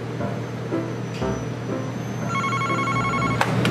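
A telephone rings in a comedic puppet skit, its bell tones sounding in a short burst near the end over a low background hum.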